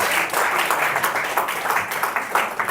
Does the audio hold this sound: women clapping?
yes